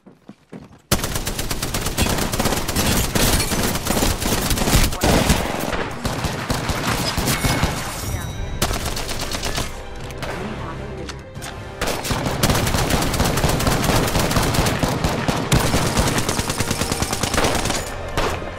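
Sustained, loud automatic gunfire from an Apex Legends match, with dense bursts of shots rattling almost continuously for many seconds and brief dips between volleys.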